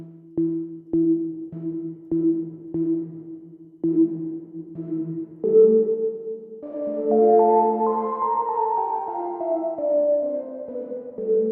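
A guitar with a reverb pedal plays a series of short plucked notes in a steady rhythm, then opens into sustained, washing chords that ring out and trail smoothly, clear and close.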